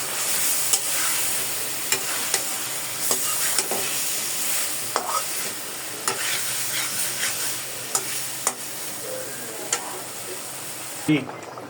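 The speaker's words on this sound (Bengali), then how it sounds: "একটু নাড়াচাড়া করে নিই।" A curry of hilsa fish and potatoes in a pan is stirred under a steady background sizzle, with sharp spoon-scrape clicks scattered at irregular moments. The sound is close and moderately loud.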